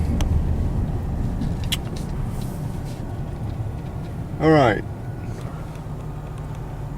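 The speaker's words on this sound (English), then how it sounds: "Wait for the traffic here." Steady road traffic rumbles past a 1997 Lincoln waiting at the roadside, with one vehicle swelling briefly louder before fading, under a man's short spoken remark.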